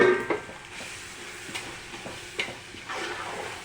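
Leafy mint and coriander being stirred into a pot of biryani, giving a soft scraping stir over a faint sizzle, close by, with no talking.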